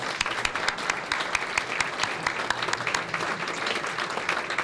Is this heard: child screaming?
no